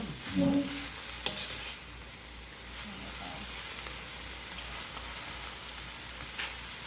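Sauerkraut and vegetables for Filipino vegetable lumpia fry over high heat with a steady, close sizzle while they are stirred, marked by a few scraping and clattering moments.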